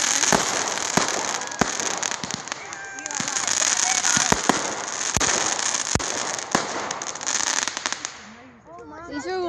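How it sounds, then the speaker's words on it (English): Fireworks at a backyard firework party crackle and pop in rapid sharp bursts over a dense hissing fizz, loud and close, fading at the end as a voice speaks over the dying crackle. "You never know when fireworks are gonna end, do you?"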